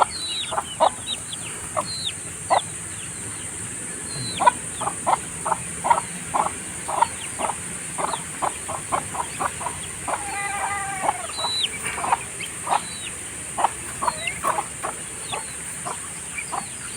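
Chickens and young chicks in a backyard flock cluck and peep in a steady run of short, repeated calls over a faint constant background hum, with no talking.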